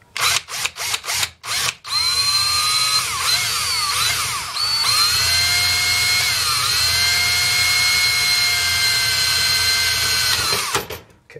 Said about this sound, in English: when you drill into metal, you gotta make sure your RPMs are slow